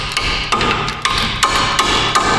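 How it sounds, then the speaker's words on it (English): Repeated sharp metallic strikes from an air hammer working on a front CV axle of a Ford EcoSport ring out loud and close at irregular intervals, roughly one every half second, with no talking. "Oh, that's not how you use an air hammer?"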